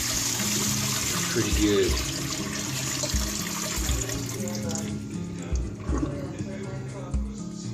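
Water drains from brined pork into a sink, a steady splashing pour that eases off toward the end, with a voice speaking briefly over it.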